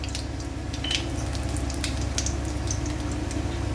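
Mustard seeds and chili frying in hot oil in a pan, a steady close sizzle with scattered small crackles and pops running throughout, no voices.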